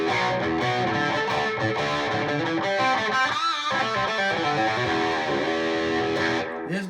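An electric guitar driven through a Caline CP-516 Orange Burst overdrive pedal plays a continuous run of distorted chords and notes, loud and close, with no talking.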